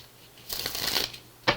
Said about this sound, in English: one more shuffle to go